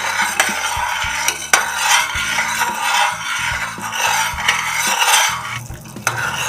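Sugar syrup stirred in a pan, with repeated close scraping and knocking strokes of a utensil against the pan's bottom and sides at an uneven rhythm, fairly loud and steady with no talking.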